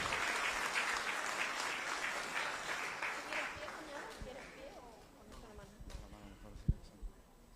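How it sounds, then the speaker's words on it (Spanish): A church congregation claps in a burst of dense applause that fades over several seconds, followed by scattered claps, a few louder isolated hits, and voices talking at low level. "Le damos un aplauso al Señor por su vida."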